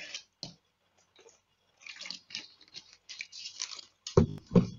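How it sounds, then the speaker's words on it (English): Person drinking water, with small wet sips, slurps and liquid noises that end in a couple of louder gulps or swallows, close up. "hold on, let me drink some water."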